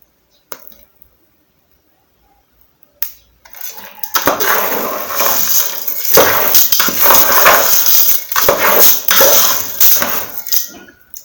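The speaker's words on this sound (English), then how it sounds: "Our guinea corn has already started popping, so I'm just going to keep stirring it so it doesn't burn" Guinea corn popping in a hot pot while being stirred: after a quiet start, a dense, loud run of sharp crackling pops and scraping continues steadily to the end.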